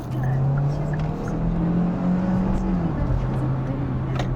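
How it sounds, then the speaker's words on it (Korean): A Kia Sportage Hybrid accelerating hard in Smart drive mode on an open road, the engine drone rising steadily from inside the cabin, loud and continuous, with faint tire and road noise underneath. "지금 잠깐 앞이 뚫려서 급가속을 한번 해보면"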